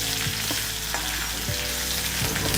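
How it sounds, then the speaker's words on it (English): Green chillies, ginger and curry leaves frying in hot oil for a potato and peas curry, a loud dense sizzle with several quick scraping tosses of the spatula, close and without speech. "I'm going to toss these around for a minute or two so that the spices are nicely cooked."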